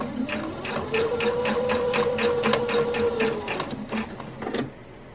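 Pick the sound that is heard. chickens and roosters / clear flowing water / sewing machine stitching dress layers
sewing machine stitching dress layers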